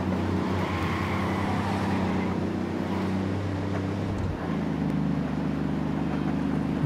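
A car drives in the video game Ghost Recon Wildlands: a steady, loud engine drone with low rumble that holds throughout, with one brief dip partway through.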